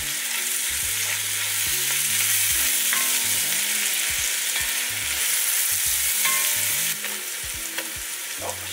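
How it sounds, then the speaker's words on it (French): Tomatoes and yogurt being stirred in a pot: a constant loud sizzle and bubbling, steady and close, with faint low tones and occasional light knocks beneath. "On va bien mélanger le tout."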